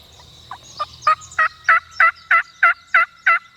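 A wild turkey calls close by in the hunting woods, a loud series of about nine sharp, evenly spaced notes that start faint and build to a strong, steady rhythm.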